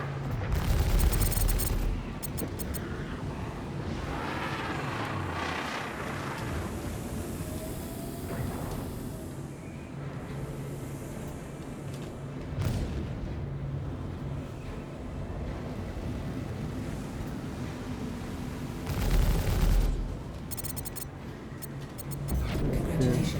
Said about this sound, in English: I'm gonna start firing on missiles now.